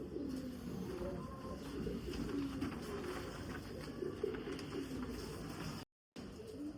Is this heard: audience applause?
no